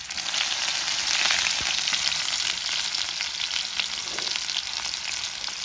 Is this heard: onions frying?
yes